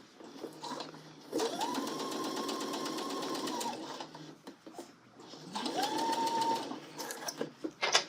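Sewing machine stitching a sleeve seam on a colorblocked angle coat, heard as two steady, even whirring runs of a few seconds each with a short quiet pause between them, close and fairly loud.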